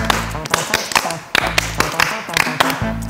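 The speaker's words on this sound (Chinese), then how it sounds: "你， 鼓掌。" A few sharp, close hand claps in an uneven rhythm, mixed with tapping and background music, with voices chatting among the members of a Chinese boy band during a studio segment.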